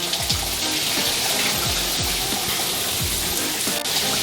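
Delta shower faucet running hot water in a steady, close hiss with faint rhythmic knocks underneath.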